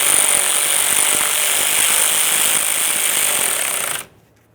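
A loud, continuous rattling power tool tightens the mounting hardware that holds the sleeve to the outer tie rod end on a 1994-2001 Dodge Ram 1500. It hammers steadily up close for about four seconds, then cuts off abruptly into silence.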